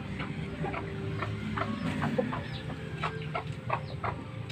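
Backyard chickens and a rooster cluck in scattered bursts over a steady farmyard hum at feeding time, the calls moderately close and irregular.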